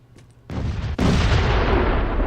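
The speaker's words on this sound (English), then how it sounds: "You can just huck a grenade out there and watch everything blow up." A grenade explodes in Crackdown 2 with a sudden loud boom, followed by a second sharp blast and a long, dense rumbling roar of debris that sustains at full loudness.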